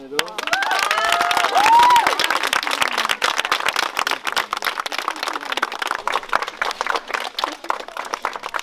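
Audience applause and cheering at a Haghartsin festival gathering: loud clapping with shouts and voices early on, thinning into scattered claps toward the end.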